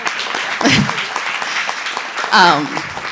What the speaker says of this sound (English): please everybody give her another hand of applause